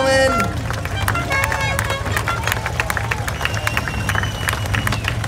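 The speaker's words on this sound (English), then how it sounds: "Give him a big round of applause" A crowd applauds at Beech Bend Raceway during a car event, scattered claps and cheers spread across the stands under steady background noise and crowd chatter, with a voice heard briefly at the start.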